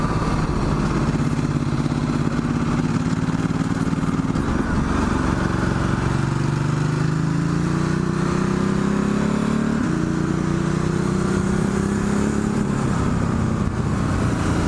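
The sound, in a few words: Ducati Multistrada 1260S motorcycle with Termignoni exhaust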